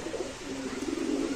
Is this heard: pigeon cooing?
yes